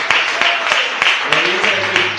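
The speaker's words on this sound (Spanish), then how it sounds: "Aplaude al Rey, ¿verdad?" A church congregation applauding during a sermon, rhythmic claps at a steady beat over a loud, echoing hall with voices and music underneath.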